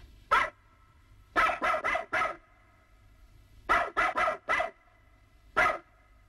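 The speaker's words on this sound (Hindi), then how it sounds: "कुत्ते की आवाज।" A dog barks in sharp bursts: a single bark, then a quick run of four, another run of four, and a final lone bark, loud and close, with quiet gaps between the groups and no talk.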